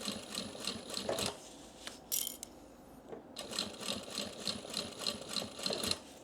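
A sewing machine stitching slowly around the turnout hole of a fabric bag, with a rapid rhythmic mechanical whir in bursts separated by short pauses and a small clatter, close and clear, with no talking.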